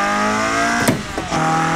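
Engine of a Peugeot 106 GTI in a driving video game, revving hard and steadily at full throttle, loud and close, with a brief dip in the middle before the drone resumes.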